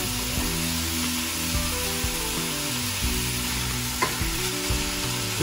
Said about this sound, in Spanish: Esto lo cocinamos durante aproximadamente 8 o 10 minutos hasta que toda la carne ya deje de estar rosada